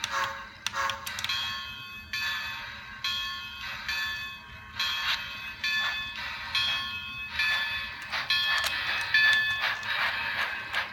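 An SAL 106 model train engine pulls new boxcars along a layout, giving a steady rhythmic clicking of wheels over track joints with faint ringing metallic tones, close and continuous without speech.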